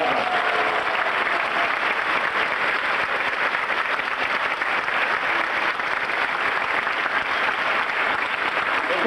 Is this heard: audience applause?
yes